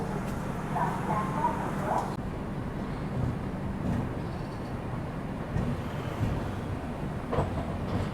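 Steady low rumble with faint rhythmic clatter, heard from inside a first AC coach of the Purushottam Superfast Express as it runs; continuous and even throughout, with no one talking.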